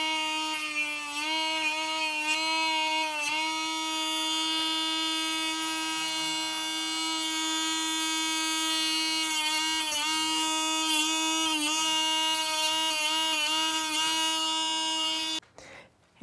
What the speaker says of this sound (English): Dremels to grind the whole toenail versus clipping it